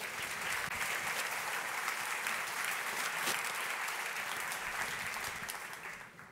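A conference audience at an evening party keynote applauds a volunteer called up for a magic act, with steady, dense clapping that holds for several seconds, then thins and fades near the end.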